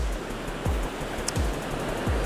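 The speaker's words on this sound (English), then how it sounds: "Nice swell of the waves." Sea waves and swell roll onto the shore at a coastal fishing spot, giving a steady wash of surf with low thumping surges roughly every second, and no voices.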